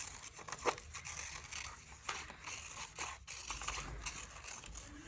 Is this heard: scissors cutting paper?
yes